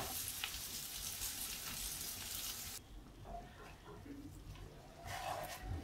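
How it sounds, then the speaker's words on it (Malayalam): Sardines frying in a pan give a steady, dense sizzle for the first few seconds, then a quieter crackle with light clinks and stirring. "ബാക്കിയുള്ളതും കൂടെ ഇതുപോലെ പൊരിച്ചെടുക്കാം."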